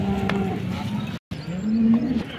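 Cows at a livestock market give a couple of close, loud moos amid the busy ambient noise of the bazaar, broken by a brief silent gap.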